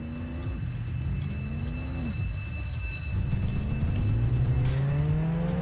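A Ferrari engine drones in the Roblox Jailbreak game, its pitch rising and falling through gear changes and then climbing steadily as the car speeds up, continuous and fairly loud.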